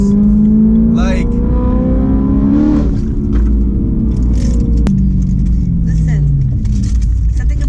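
A tuned BMW M3 running without catalytic converters drones loudly and steadily throughout, its engine tone rising and easing in pitch beneath a voice talking over it.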